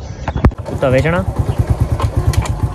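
A motorcycle engine runs with a steady, low, rhythmic putter in a village, while someone talks close by over it.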